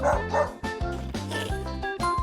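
A cartoon dog yips and barks in a quick series of bright, bouncy calls, loud and close, each bark short with a playful pitch.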